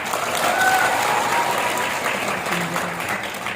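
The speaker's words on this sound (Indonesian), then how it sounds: "Tepuk tangan semuanya." A crowd at a Natura World company event in 2020 claps together, a steady, fairly full applause swelling early and tapering slightly toward the end, with faint voices mixed in.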